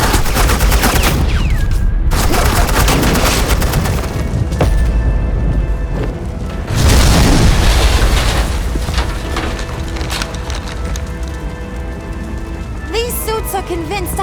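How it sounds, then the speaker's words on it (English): Continuous heavy gunfire and booming explosions fill a scene from the Batman: The Enemy Within video game, loud and dense throughout with a burst of extra intensity partway through. "This is Agent Quinn, suppressing fire."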